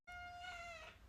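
A cat gives a single clear, drawn-out meow with a falling tone, close and alone against a quiet room.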